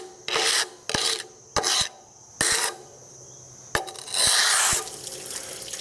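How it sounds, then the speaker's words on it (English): A Seco grinder with a 1500 grit pad working a concrete countertop, loud raspy grinding in about seven short bursts separated by pauses, with a wet, watery edge, close and with no talk. "I've got my Seco grinder going here, and I'm starting off with a 1500 grit pad"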